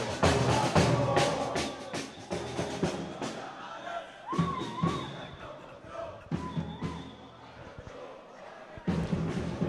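Tunisian football fans marching through the streets of Doha during the World Cup, a loud outdoor crowd with shouts, whoops and thumping drums rising and falling, and some nearby voices mixed in.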